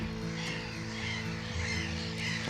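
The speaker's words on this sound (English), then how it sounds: "lots of black-headed gulls making a lot of noise over here." Many black-headed gulls call noisily across a nesting colony, their harsh, overlapping cries repeating steadily against a constant low background rumble.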